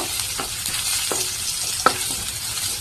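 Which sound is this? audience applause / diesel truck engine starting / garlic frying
garlic frying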